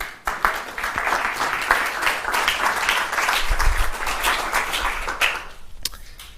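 An audience at a live debate on European trade policy breaks into sustained, even applause for a speaker being introduced, a dense wash of many hands that fades near the end, with no voices.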